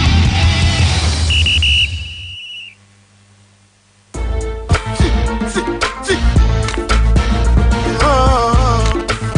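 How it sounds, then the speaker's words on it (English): One short, shrill referee's whistle blast at a football match cuts through busy background noise, followed by a quiet lull and then loud, energetic music. "The sound of the whistle. Let the action begin."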